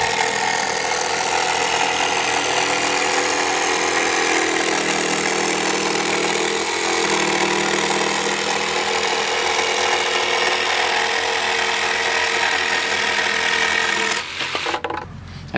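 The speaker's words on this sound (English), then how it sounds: "I used a jigsaw to cut out the shape of the batteries." A jigsaw cuts through plywood for a travel trailer battery box, a steady, loud buzzing saw drone that runs continuously for about fourteen seconds before stopping abruptly.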